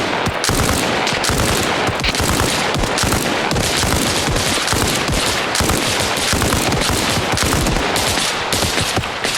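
Dense, loud gunfire from the military shooter game Arma Reforger, a near-continuous barrage of overlapping rifle and machine-gun bursts with no letup for the whole stretch.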